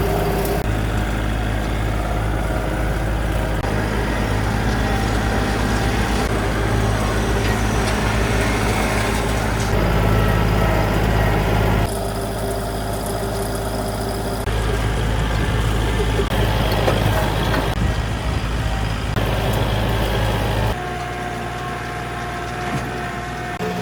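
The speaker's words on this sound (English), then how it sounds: "Running double tractors is so nice." Two tractors run together in a 3/4-acre field while disking ground to plant corn for doves, a steady low engine drone. The sound shifts in level as the machines move and the view cuts.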